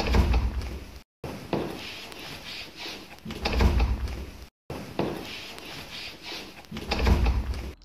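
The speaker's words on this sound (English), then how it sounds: "Now I had to repeat that sound so you hear the sound of the door yourself." A door swinging open and shut, replayed several times in a row, giving a repeating pattern of loud wooden thumps and creaks separated by brief silent gaps, with no voices.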